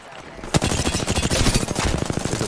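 Fast bursts of automatic gunfire in a video game, a dense run of loud, close shots after a brief lead-in, continuing without pause.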